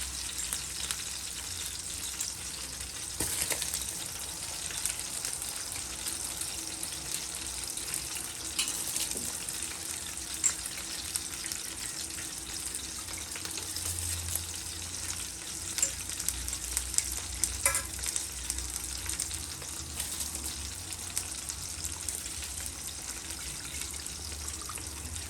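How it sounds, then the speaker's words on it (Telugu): Rice tipped into a pot of already boiling water and stirred while making khichdi, heard as a steady bubbling, sizzling wash with scraping and stirring noises throughout, close and fairly loud, no voices. "మన వాటర్ అనేది మరిగిపోయింది. సో ఇప్పుడు మనం రైస్ తీసుకుంటున్నాం దీంట్లోకి."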